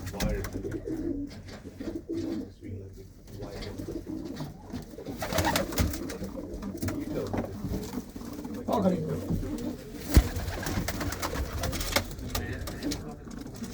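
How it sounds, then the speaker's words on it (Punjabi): Pigeons coo repeatedly in low, soft murmurs while someone talks nearby over them, with occasional rustling. "ਇਹ ਦੇਖੋ ਇਹ ਸਾਰੀਆਂ ਸਾਰੀਆਂ ਜਿਹੜੀਆਂ ਵੱਡੀਆਂ ਕਬੂਤਰੀਆਂ ਆਂ"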